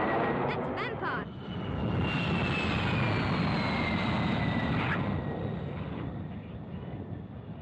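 A de Havilland Vampire jet plane roars past, its broadband rush swelling and then fading, with a high whistling tone sliding downward as it passes.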